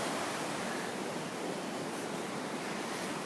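Floodwaters of the Kilchis River rushing past at high water, a steady, dense broadband roar with no breaks, close and loud, with no voices.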